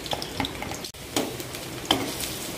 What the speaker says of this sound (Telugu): కొంచెం లైట్ బ్రౌన్ కలర్ వచ్చే వరకు వేగనివ్వాలి